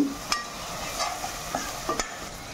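Turmeric and chili powder stirred into aloo egg curry in a hot pan, with a spoon scraping and clacking against the pan in short strokes over a steady sizzle, heard close with no voices.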